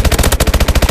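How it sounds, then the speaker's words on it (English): Rapid machine gun fire in Call of Duty: Advanced Warfare during a team deathmatch, a steady rhythmic burst of about ten evenly spaced loud shots, close and heavy, with no talking over it. "He was chasing me, shooting me in the back."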